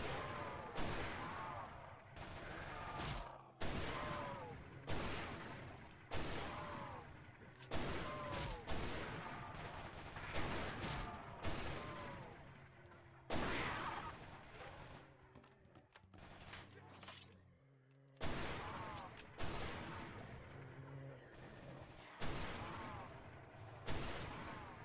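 The Yoko Lagan sniper rifle fires in Roblox Project Lazarus, a series of loud, sharp single shots spaced a couple of seconds apart, each with a short ringing tail and mechanical handling noises between them.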